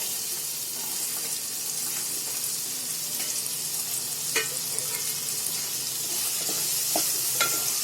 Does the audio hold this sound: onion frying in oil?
yes